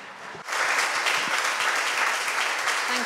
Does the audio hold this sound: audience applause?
yes